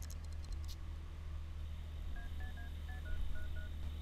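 A Sims 2 cell phone dials a string of short, evenly spaced electronic keypad tones, faint against a steady low background hum.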